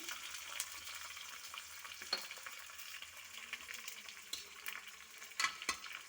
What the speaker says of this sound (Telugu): బాగా వేగిన తర్వాత ఇంగు వేసుకోవాలి